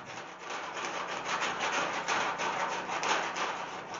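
A file is drawn over a vintage steel glider frame in a continuous raspy scraping, close and even, without pauses or voices.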